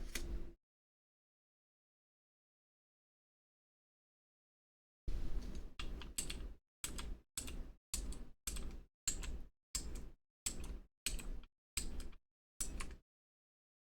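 After a long silence, a burst of keyboard typing follows: about a dozen clacky bursts of keystrokes in a fairly regular rhythm, close and crisp.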